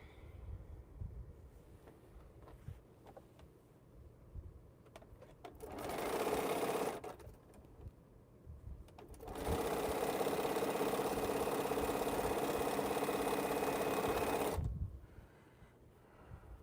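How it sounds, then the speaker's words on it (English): Quilt block pieces being sewn on a sewing machine, its motor whirring in two steady runs, a short burst and then a longer stretch of several seconds, close and loud over a quiet room. "I'm gonna at least try to get this part sewed on so we'll have the bottom part of the block"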